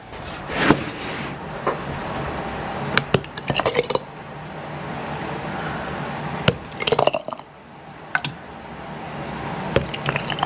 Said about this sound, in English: So I'm about ready to start bottling them up.